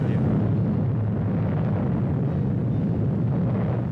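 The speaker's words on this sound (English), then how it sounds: "In 1952, on the Pacific Proving Ground, Mike, the first so-called hydrogen bomb, is test-fired." Mike, the first hydrogen bomb, test-fired in 1952 at the Pacific Proving Ground: a sustained, dense low roar rumbling steadily for several seconds, loud and unbroken, with no distinct onset.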